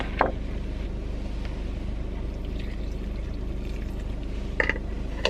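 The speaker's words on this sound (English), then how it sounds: "Putting some coconut milk in" Coconut milk pours into an Instant Pot over a faint steady background hum, with a brief splash near the start and another short burst of pouring close to the end.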